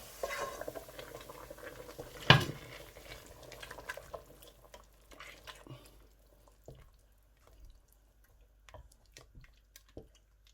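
Egusi soup stirred in a pot for Nigerian party egusi: one sharp scrape of the spoon against the pot, then soft, faint scraping and drips that fade into near quiet, with no talk.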